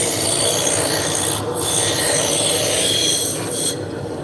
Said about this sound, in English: And we're going to start with the roughing gouge.